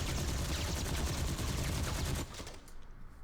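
Blade fires his gun in rapid, continuous bursts in the PC game Marvel Heroes Omega, a loud dense rattle that stops suddenly, leaving a quieter fading tail.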